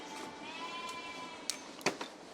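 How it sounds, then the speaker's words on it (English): Young lambs bleating in the countryside at this time of year, a faint wavering cry rising from a steady outdoor hum, with a couple of sharp clicks and knocks close by. "Isn't that lambs though?"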